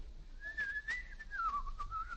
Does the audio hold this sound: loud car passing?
no